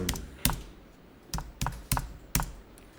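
Someone typing on a computer keyboard, including a Tab key press, during accounting data entry, with a handful of sharp, close keystrokes spaced irregularly.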